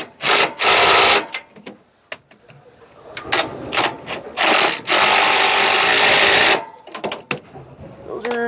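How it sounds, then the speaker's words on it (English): A power tool with a non-impact socket locks down stud bolts on the accelerator rail assembly of a Brunswick GSX bowling pinsetter, giving several loud, close whirring and ratcheting bursts of a second or two each, split by short pauses and clanks. "I'm gonna go ahead and lock our stud bolts down."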